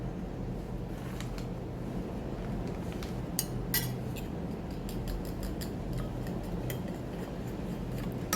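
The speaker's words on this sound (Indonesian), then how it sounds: "Kita akan kocok telur ya." Eggs whisked in a bowl with a little rice flour for a sosis solo batter, a series of light irregular clinks and taps of utensil against bowl over a steady background hum.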